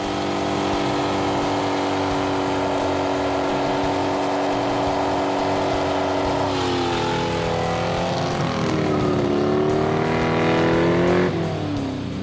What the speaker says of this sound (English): for real monster burnouts, nothing beats a line lock.